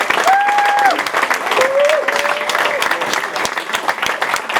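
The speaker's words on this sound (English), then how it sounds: "Let's have a big round of applause for that." A crowd claps and cheers at a live event for Mansfield Town football club, loud and close, with whoops and shouted cheers riding over the steady applause.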